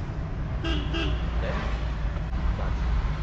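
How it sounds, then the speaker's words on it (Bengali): A car horn gives two short toots during a driving lesson on a road in Sylhet, heard over a constant low engine and traffic rumble. "হর্ন দিন"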